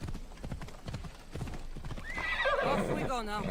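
A horse in Assassin's Creed Odyssey gallops with rapid, steady hoofbeats, then gives a loud whinny near the end, while someone talks over the hoofbeats throughout.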